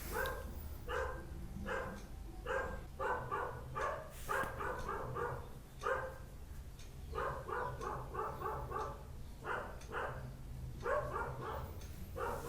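A dog barks in steady clusters of sharp barks repeated over several seconds, fairly distant and moderately loud above a low background hum.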